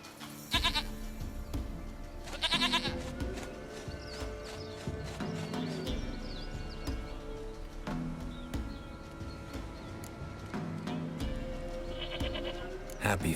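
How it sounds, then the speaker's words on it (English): Goats bleat in The Witcher 3, with a loud cluster of bleats near the start and more around the middle and end, set over continuous game ambience and rustling. "Goat of mine, dearest, sweetest goat."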